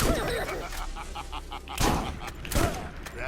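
A shotgun in the Borderlands video game fires several booming blasts in quick succession, loud and close, punctuated by brief gaps.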